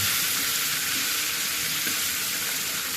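Fish frying in hot oil in a home kitchen, a loud, unbroken crackling sizzle that holds steady throughout with no voices.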